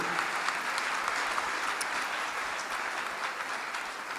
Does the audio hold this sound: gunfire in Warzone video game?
no